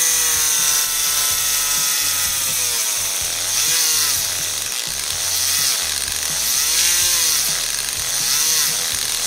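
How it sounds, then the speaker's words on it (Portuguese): Drill bit boring through a silicone mold, a loud, close whining motor whose pitch rises and falls in repeated sweeps as the bit works back and forth, with no talking. "O silicone é meio ruim de furar"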